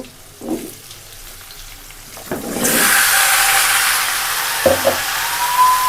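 Pumpkin goes into a hot pan with a few dull thumps, then a loud, steady sizzle takes over, with a couple of clunks from the pan partway through; no speech.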